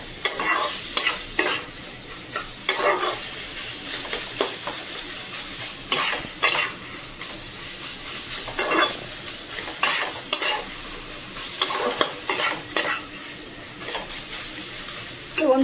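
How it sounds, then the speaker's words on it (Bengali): A spatula scrapes and stirs taro greens with prawns sizzling in a frying pan, making repeated close clanks and scrapes over a steady background fry. "ভালো করে আমি নেড়ে চেড়ে নেব।"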